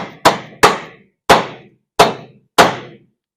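Five sharp hammer blows drive a sleeve into a suspension arm of a 1981 Mazda RX7. The metallic strikes are loud and close, spaced about half a second apart, each ringing briefly before dying away, with no talking.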